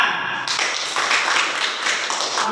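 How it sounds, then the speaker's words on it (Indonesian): Classroom applause from a group of students, a steady dense patter of many hands clapping continuously after a brief quiet start, fairly loud and without talk. "Tepuk tangan."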